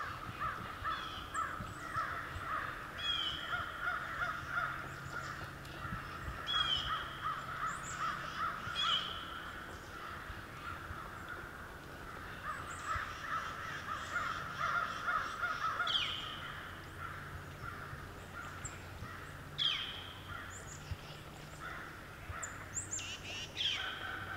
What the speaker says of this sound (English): These crows are going wild over here.